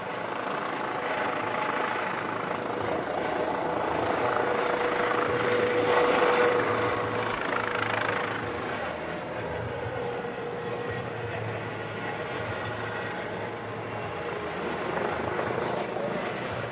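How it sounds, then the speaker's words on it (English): A Eurocopter EC-135B2+ Croatian police helicopter drones steadily at an air show, its rotor and turbine noise filling the whole stretch and swelling slightly midway before easing off again. "This helicopter is the second EC-135B2+, on the strength of the Croatian police forces."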